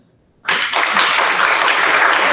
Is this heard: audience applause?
yes